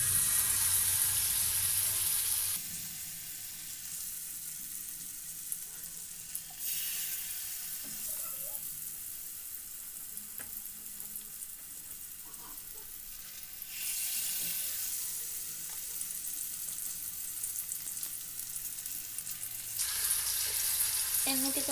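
Pumpkin flower pitha fries in oil on a tawa over a medium gas flame, giving a steady close sizzle that swells and recedes in waves across the whole stretch, with no talk over it.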